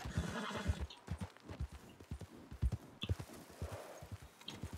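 Horse hooves clip-clop in a steady trot, with a loud whinny rising over them, in the video game Red Dead Online.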